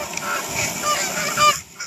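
Geese honk overhead in a brief, busy chorus of overlapping calls, moderately loud and somewhat distant.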